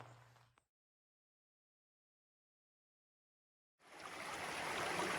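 Water from a stream running beside a trail rushes in as a steady broadband wash that builds and holds, loud and close, after a brief faint opening and a stretch of silence.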